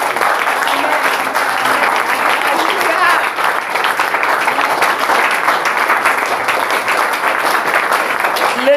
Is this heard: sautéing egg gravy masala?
no